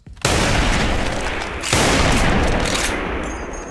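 Sniper rifle fire in the video game Soldier Front 2: two loud, close shots about a second and a half apart, each a sharp crack followed by a sustained rumbling echo, with no voices.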